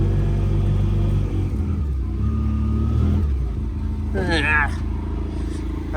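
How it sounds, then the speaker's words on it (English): A small Cub LoBoy tractor engine, stuck, drones and strains at low pitch, its labored rumble rising and falling, with a voice calling out over it near the end. "Come on, you little tractor, get out of there."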